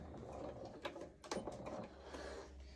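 Sewing machine stitching along a pocket edge on doll coveralls, a faint steady mechanical whir with small clicks, close and alone.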